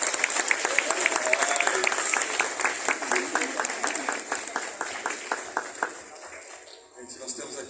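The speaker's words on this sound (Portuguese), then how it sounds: "Uma salva de palmas para eles de novo" Applause from a church audience at a ministry gathering honoring a reunited family, many hands clapping in a dense, steady patter that gradually thins and fades near the end, with voices mixed in underneath.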